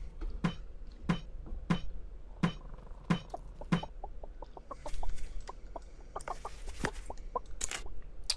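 A chicken in the video game Tree of Life clucks repeatedly, first in several loud, evenly spaced clucks, then in a quicker run of softer clucks, with no speech.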